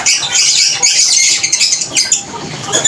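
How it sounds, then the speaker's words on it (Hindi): Pet parrots screech loudly at close range in overlapping bursts, with a soft rustle that could be flapping wings. "और वो हमारे लोटने तोते हैं।"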